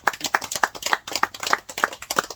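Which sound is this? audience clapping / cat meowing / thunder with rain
audience clapping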